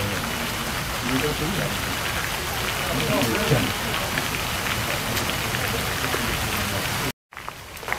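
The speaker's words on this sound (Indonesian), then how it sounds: "Kami di makam Bunda Ratu Galuh, begitu datang dapat hujan." Steady heavy rain pours down at a grave site, a dense continuous hiss of drops on surfaces, with a voice talking faintly beneath it before a brief cut near the end.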